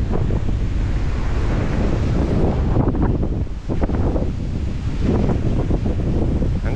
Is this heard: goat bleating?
no